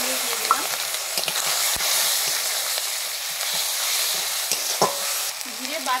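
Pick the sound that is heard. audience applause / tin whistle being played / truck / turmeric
turmeric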